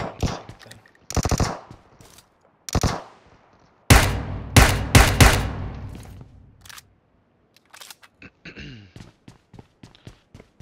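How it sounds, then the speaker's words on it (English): Several sharp bursts of gunfire in PUBG Mobile, some single shots and some rapid volleys, loud and close, separated by short quiet gaps and softer clicks. "I had gunfire somewhere between the north and northwest."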